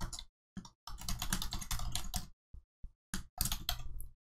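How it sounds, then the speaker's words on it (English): Someone types on a computer keyboard in quick bursts of close, crisp key clicks, separated by short pauses, with no talking. "I'm typing this out"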